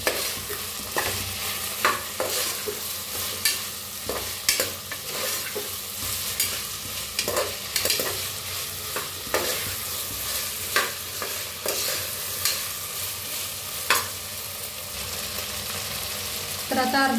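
Tomatoes sizzle in a hot pan with masala rice ingredients while a spoon stirs them, giving steady frying crackle broken by regular scraping strokes, close and fairly loud.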